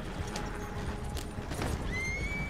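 A horse in the Red Dead Online video game whinnies loudly over rapid clip-clop hoofbeats, close and continuous for a couple of seconds.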